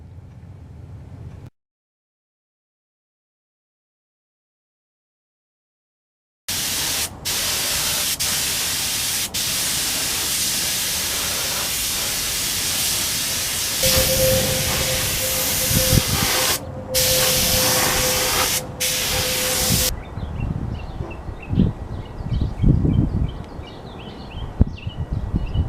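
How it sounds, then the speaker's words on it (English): A noisy air compressor for spray painting starts after a brief silence and runs with a loud, steady hiss. Near its end a thin tone rides through it, then the noise drops to a quieter, rougher hum. "I got to fire up that noisy compressor"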